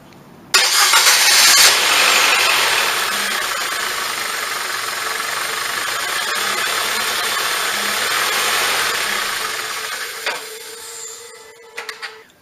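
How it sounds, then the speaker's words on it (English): A Nissan Sentra B17 engine cranks and catches, then settles into a steady, close idle that runs for about ten seconds before fading near the end, with no talking. "So now I'm going to turn on the engine."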